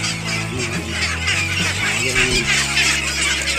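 A noisy flock of young ducks, about one month old, quacking loudly and continuously, many overlapping calls close by.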